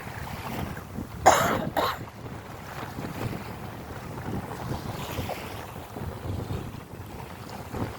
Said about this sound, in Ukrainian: Вітерець йде нам назустріч.